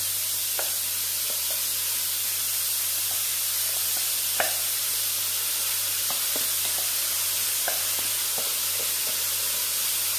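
Vanpayar papaya thoran with crushed coconut in a pan, a faint steady sizzle and hiss with scattered soft clicks of stirring, no voices.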